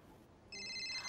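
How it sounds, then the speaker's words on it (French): A mobile phone ringtone starts abruptly partway through a quiet, tense film scene, a bright, sustained electronic tone that grows louder toward the end. "C'est mon téléphone."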